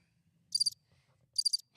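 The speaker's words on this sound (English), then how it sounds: "No one thought that was funny, so we have crickets on." A crickets chirping sound effect, two short bursts of rapid trilling chirps separated by near silence, crisp and isolated with no voices.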